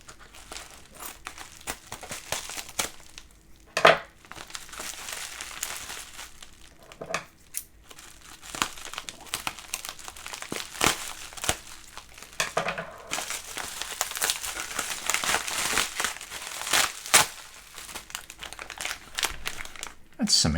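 Plastic and tape crinkle and tear as a heavily taped toy figure package is unwrapped up close, a long stretch of rustling, crunching handling with sharper rips scattered throughout.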